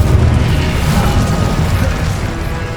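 Loud magical spell effects from Hogwarts Legacy, Leviosa and Incendio, a dense crashing, booming burst with heavy low rumble that holds steady throughout.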